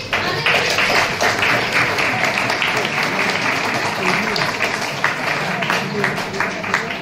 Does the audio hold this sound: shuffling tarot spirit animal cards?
no